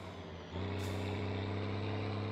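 A heavy truck in the video game My Summer Car idles with a deep, steady diesel drone, then hisses as its air brake releases and the engine note swells, close and loud.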